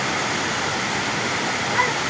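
A waterfall roars in a dense, unbroken rush of flowing water. It is close and loud and stays steady the whole time.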